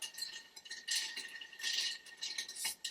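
A rum cocktail stirred in a mixing glass, with light metallic clinks and scraping of a spoon against glass in irregular bursts, close and fairly quiet, without talking.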